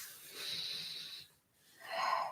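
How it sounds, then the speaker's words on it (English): Deep, slow breathing during a yoga flow session: a long, steady inhale followed by a brief pause and a fuller exhale, close and soft with no talking. "One more big breath."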